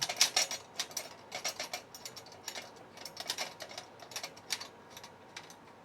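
Bolts on a delivery bag rack fitted to a Venom 2 e-bike are tightened by hand tool, giving a quiet run of ratchet-like clicks in short uneven bursts, close by with no talk.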